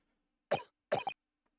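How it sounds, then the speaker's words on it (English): A character in The Great Ace Attorney Chronicles coughs twice, two short, dry, close bursts with a brief pause between them and quiet around them. "He's coughing again."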